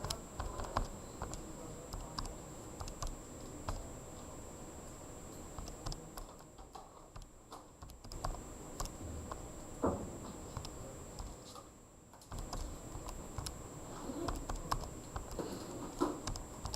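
Keys tapped on a calculator while entering numbers, a quick irregular patter of light clicks running nearly the whole time with a few short pauses, close and fairly quiet, with no talking.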